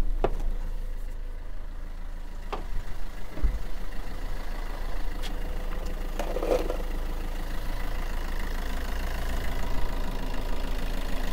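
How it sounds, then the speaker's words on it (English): A Vauxhall Corsa D 1.3 CDTi diesel engine, being checked for an intermittent non-start fault, idles steadily with a low rumble and a faint knock, with a few clicks and a brief clatter along the way. "The car running."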